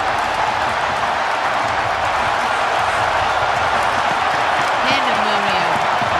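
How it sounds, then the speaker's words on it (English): Arena crowd at the Lenovo Center roaring after an overtime game-winning goal in a hockey playoff game, a dense sustained wall of cheering and applause with faint voices and whistles rising near the end. "Listen to the crowd."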